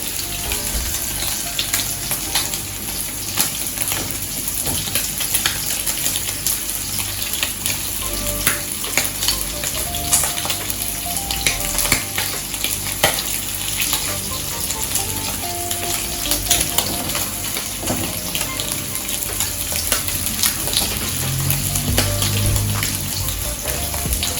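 Jamaican festival dumplings fry in oil over medium-low heat, giving off a dense, constant sizzle with fine crackling pops that stays loud and even throughout.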